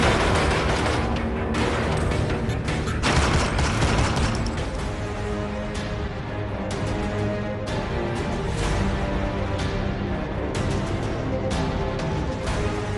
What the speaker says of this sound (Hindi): गोली चल रही है मुन्ना बजरंगी और कृष्णानंद राय पे।